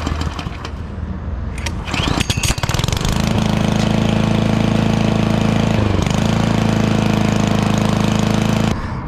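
A ProGreen PY 16 C petrol lawn mower engine is pulled and catches, then settles into a loud, steady close-up running drone that cuts off just before the end.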